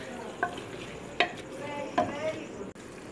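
Mutton stirred into tomato and spices frying in a pot, with a low steady sizzle and a few scraping spoon strokes at intervals, faint and close.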